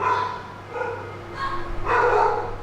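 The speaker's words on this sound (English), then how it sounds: "there are dogs barking, there is now a kid also barking along with the dogs" Dogs bark in a few sharp bursts over a steady background hum. The barking carries a whiny, yelping edge.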